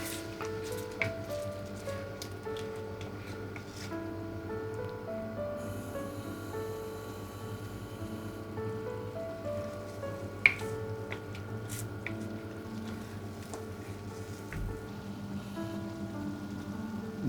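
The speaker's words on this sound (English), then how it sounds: "Just let it simmer for about 5-10 minutes." Lamb karahi simmering in a pot over medium heat as the watery sauce cooks down and thickens, with steady soft bubbling and scattered wet pops throughout.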